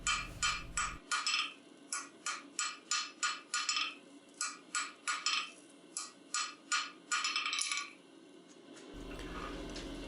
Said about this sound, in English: I switched back to a heavier hammer and I'm just drawing it out and making it a little thinner.